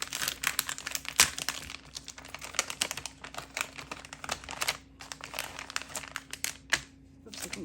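Crinkly Pipsticks Kids Pack sticker packaging and a shiny gold envelope rustle and crackle up close in quick, uneven bursts, with brief pauses between handfuls.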